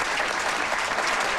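Bowling crowd at a Brunswick Mini Eliminator event applauding a winning shot, a dense, steady wash of clapping filling the whole moment with a faint murmur of voices underneath.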